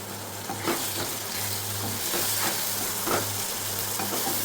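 A paste of ginger, garlic and chili sizzles and fries in a pan, with a steady crackling hiss and occasional stirring scrapes, close and alone without talk.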